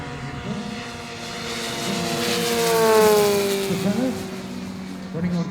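An RC scale P-51 Mustang warbird model, 19.6-inch propeller on a 14-cell 14S electric setup, flies past at a model air show, its propeller drone swelling as it nears and then falling in pitch as it passes, under an announcer's voice.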